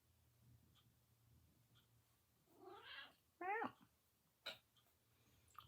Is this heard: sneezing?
no